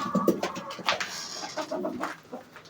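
Pigeons in a coop coo and murmur close by, with soft clucking and fluttery calls in an irregular, overlapping chatter; chickens are likely mixed in.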